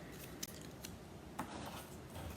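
Scissors snip through paper pieces for stamped 3D tulip papercraft, with several quiet, crisp cuts spaced irregularly against a soft room background.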